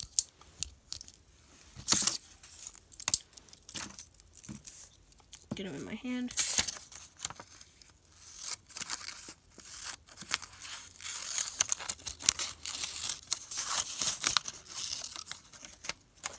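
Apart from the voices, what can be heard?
small scissors cutting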